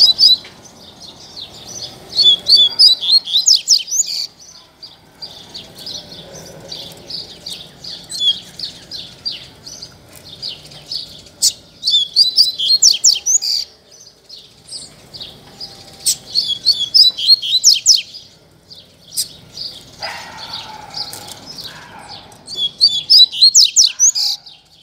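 A double-collared seedeater (coleiro) sings in repeated bursts of fast, sharp, high trills, close and clear, separated by short quiet gaps over faint background noise.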